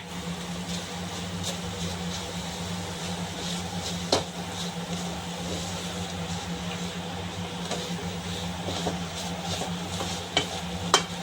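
Steady scraping and clinking of a spoon stirring a semolina cake mixture with cardamom powder in a hot pan, a continuous close stir over a low sizzle with a few sharper knocks.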